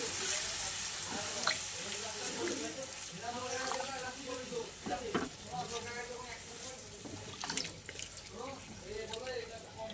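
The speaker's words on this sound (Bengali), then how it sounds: "আমি অল্প জল দিয়ে দেবো। বেশি জল দেবো না।" A little water is poured into a cooking pot of paneer curry, making a steady splashing pour under a person talking.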